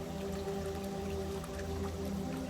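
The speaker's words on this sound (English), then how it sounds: "focus your attention on the gentle sound of the streaming water" Gently streaming water of a babbling brook trickles and ripples steadily at a soft, even level, accompanied by calm sustained tones with no voices.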